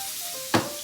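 Minced garlic hits a hot pan with one brief, sharp sizzle burst that quickly fades under a low kitchen hum.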